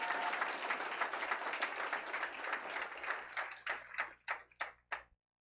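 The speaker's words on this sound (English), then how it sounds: "Can I give a big round of applause for them?" A gathering of social movements gives a round of applause for the Venezuelan delegation to the United Nations General Assembly. Dense clapping from many hands thins out into a few scattered, separate claps before stopping.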